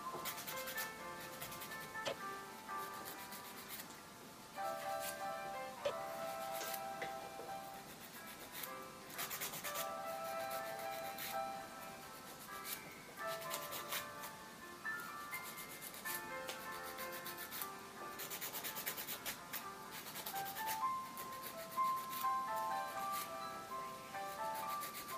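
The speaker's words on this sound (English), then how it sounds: "go back and shape the nails, okay?" A nail file rasps in repeated short, quiet strokes while shaping SNS dip powder nails with color tips, with soft background music underneath.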